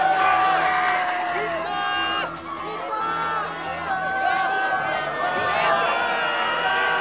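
A large crowd roars and cheers at a K-1 World MAX fight night as Yamamoto Kid Norifumi and Chong Jae-si enter the ring, a loud sustained wall of noise with an announcer's voice and music over it.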